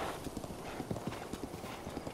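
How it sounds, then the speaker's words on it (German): Horse hooves galloping in the video game Zelda Breath of the Wild, a quick rhythmic clip-clop of repeated hoofbeats over a steady bed of game ambience, with no talk. "das Pferd läuft die Route automatisch"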